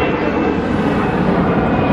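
A low-flying airplane passes overhead with a loud, steady, broadband engine roar that fills the whole moment, heard outdoors near a park with no talking.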